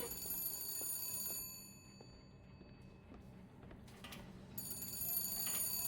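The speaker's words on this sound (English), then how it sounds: "Answer the phone." A telephone in the video game BioShock Infinite rings in repeated electronic bursts, moderately loud over a low background hum, with a brief lull in the middle.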